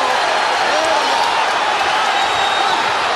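A packed boxing arena crowd of about 20,000 on its feet during a championship fight, a loud, dense, steady roar of cheering with no break in the noise.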